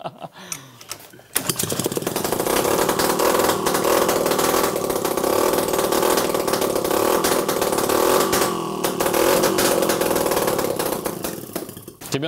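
A Pannonia motorcycle engine fitted with homemade electronic ignition catches after a brief quiet moment and runs loud and close, a steady buzzing drone with slight rises and dips, alone without talk.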